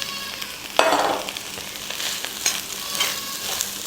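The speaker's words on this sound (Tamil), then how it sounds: "இப்போ இதில் ரைஸை சேர்த்துக்கலாம்" Cooked rice is added to an egg mixture and stirred in a frying pan for egg rice, a sharp scrape of rice hitting the pan, then close sizzling with repeated stirring scrapes, no talk.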